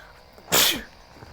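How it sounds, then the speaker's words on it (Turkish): A single sharp, explosive cough bursts out close to the mic, brief and loud against a quiet background. "çok kötü öksürdüm ya"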